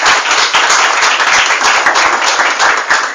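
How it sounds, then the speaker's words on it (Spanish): Church congregation applauding, a dense, steady wash of many hands clapping, loud and close, continuing throughout with no talk over it. "Un aplauso al Señor."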